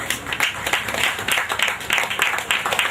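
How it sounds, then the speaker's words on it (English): Audience applause at a social enterprise gathering in Ibadan, a steady patter of many hands clapping at moderate volume, continuous and fairly close throughout. "A round of applause, please."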